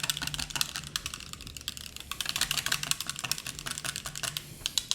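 A mini whisk stirs coffee extract in a container for Ninja Creami ice cream, making rapid, irregular metallic clicking and tapping strokes that run throughout at moderate volume.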